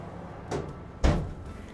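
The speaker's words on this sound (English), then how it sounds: "we can put the tray into the oven with the bacon to finish the cooking process" An oven tray slid into an oven holding bacon, giving two short knocks, a light one and then a louder clunk, close by in a quiet kitchen.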